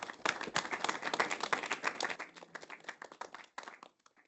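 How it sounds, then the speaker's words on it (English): An audience claps for about four seconds to welcome Ben onstage at a FoundationDB testing talk, a dense, steady patter of many hands that thins out and fades near the end, with no talk over it. "let's give a warm round of applause and welcome to Ben"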